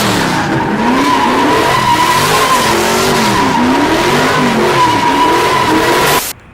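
A 1968 Camaro with a 500 hp small-block V8 doing a burnout, loud sustained tire squeal over a roaring, wavering engine, close and continuous before cutting off abruptly at the end.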